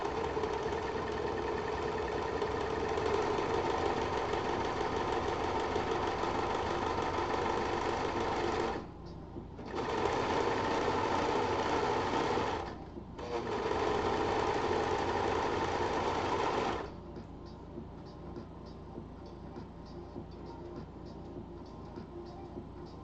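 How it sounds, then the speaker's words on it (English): A serger sewing machine runs 3-thread serging in long, loud, steady whirring stretches, with two short pauses before it stops, after which a quieter mechanical hum continues close by. "We are gonna do some serging. Some 3-thread serging."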